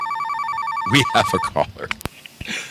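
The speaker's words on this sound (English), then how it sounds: "Oh, wait, we have a phone call" A telephone rings for an incoming call, a repeating electronic trill heard up front before a person starts talking over it, with brief clicks and noises near the end.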